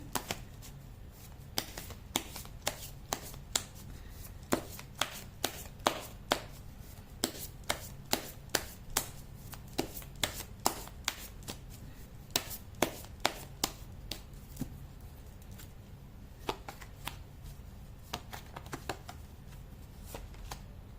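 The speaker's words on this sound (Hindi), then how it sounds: "कर लेती हूँ कार्ड की शफलिंग।" Tarot cards shuffled by hand in rapid, crisp riffling bursts with sharp flicks and taps, close and fairly quiet, running steadily throughout with no talking.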